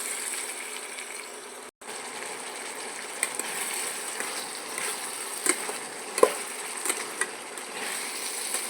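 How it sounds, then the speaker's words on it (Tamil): Tomatoes sizzling as they sauté in a pan with rock salt while being stirred, heard as a steady close fry hiss with occasional light scraping knocks from the spoon, with no talking. "பாருங்கள் இப்படி வதங்குதுங்க. அடிப்பிடிக்காமல் கிண்டிக்கிட்டே இருங்க."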